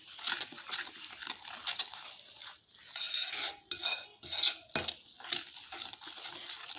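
Sweet pakora batter sweetened with sugar being stirred in a bowl, a steady scraping, sloshing mix of utensil strokes running continuously with brief pauses, close and fairly soft, with no talking.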